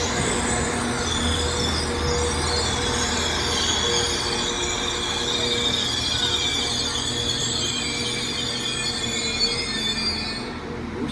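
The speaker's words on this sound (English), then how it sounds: "Train now arriving in is a terminating 195 that came from Lime Street." A Class 195 train from Liverpool Lime Street pulls into Warrington Central, with loud, continuous wheel squeal and a rumbling rail drone close by, steady throughout and easing slightly at the end.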